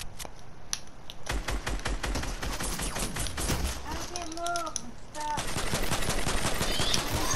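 Rapid automatic gunfire in Fortnite, dense bursts of shots rattling almost nonstop, loud and close, with brief pauses and a player talking over it.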